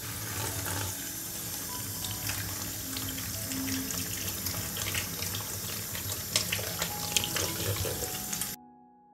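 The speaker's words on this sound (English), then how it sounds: "I will wash 9 larger mushrooms." Running tap water pours steadily into a sink while nine large mushrooms are washed under it, a continuous close splashing hiss with small clatters, ending abruptly.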